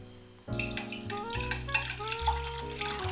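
Water pouring into a small cup holding a few spoonfuls of tomato broth, a steady close trickle with rising ringing tones as the cup fills, heard alone.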